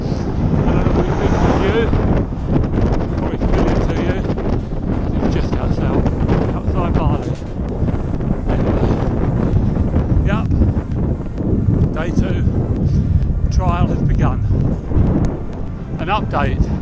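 Heavy wind noise roars across the microphone while riding a bike with the wind behind at about 22 mph, a loud continuous buffeting rumble with a voice speaking faintly underneath.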